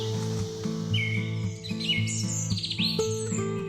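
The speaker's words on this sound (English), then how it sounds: "Araripe manakin. A very beautiful and elegant bird in the world." An Araripe manakin, a small white, red and black bird from Ceará, Brazil, gives several quick rising and falling chirps, fairly clear but set over steady background music with a repeating tonal pattern.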